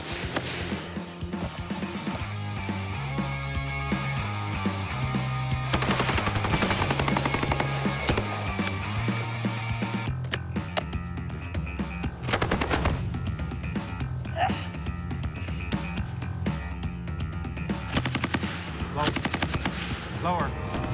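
A Browning machine gun fires in long, rapid automatic bursts, loud and continuous, with a mechanical rattle and faint voices in the background.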